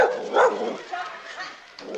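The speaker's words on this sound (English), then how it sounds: "No one seems to worry much about them, except an occasional dog." A dog barks now and then on a street in Santa Clara, El Salvador, in 1984, heard mid-distance beneath steady voices of people talking outdoors.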